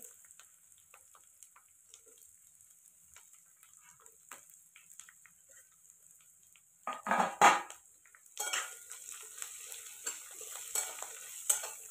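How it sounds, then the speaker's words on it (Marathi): Onion goes into a hot tempering with crackled curry leaves in a pan on a wood-fired stove. After a quiet start and a brief clatter, a soft, continuous sizzle rises and keeps going with light stirring. "आता कांदा टाकून घेणार आहे."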